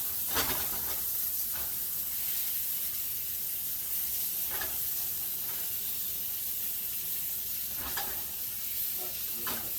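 Bread soaked in patty melt pan juices toasts and sizzles in a hot pan, a close, steady frying hiss with a few soft scraping stirs and clicks scattered throughout.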